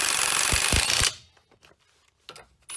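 A 19mm socket ratchets rapid clicking bursts while tightening bolts on a Dodge Dakota/Durango power steering rack, a loud dense run followed by a few short scattered clicks and clanks.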